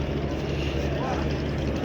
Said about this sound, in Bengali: খুবই ভালো গতিতে আমাদের লঞ্চ এগিয়ে চলতেছে।